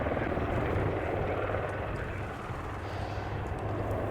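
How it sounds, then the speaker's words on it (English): Royal Navy Leonardo Wildcat HMA.2 helicopters of the Black Cats display team fly past at an airshow, their rotor throb and turbine roar steady and loud throughout, fading slightly midway before building again. "Running in straight in front of you, the Leonardo Wildcat HMA.2s of"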